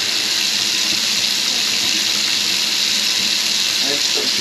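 Water rushes steadily into a kitchen sink whose drain line is plugged, a constant loud hissing gush close by with no breaks.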